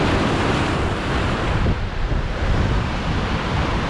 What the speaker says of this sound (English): I hope this wave gonna splash me